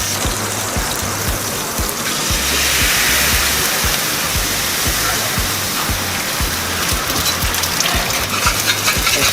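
Loud, steady hiss of char kway teow frying in a hot wok, a dense sizzle running throughout with faint low rhythmic thumps from a burner or fan underneath.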